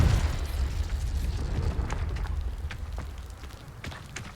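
A Confringo blasting curse explodes in Hogwarts Legacy: a loud, close boom opens the sound and then decays into a rumbling, crackling tail with scattered sharp pops.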